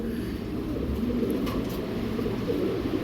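Pigeons coo softly in a loft amid a steady low background hum, the calls blending into a continuous murmur rather than standing out individually.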